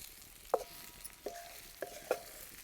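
Sliced bitter gourd (karela) is stirred in a kadhai over a wood-fired stove, with four sharp spatula clinks against the pan spaced about half a second apart over a soft background hiss.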